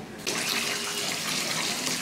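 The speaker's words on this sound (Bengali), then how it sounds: "এখন আমি চালে জল দিয়ে কিছু সময় ভিজিয়ে রেখে দেবো" Water pours steadily onto washed rice to soak it, a loud, close, continuous splashing stream that starts abruptly and runs without pause, with no talking.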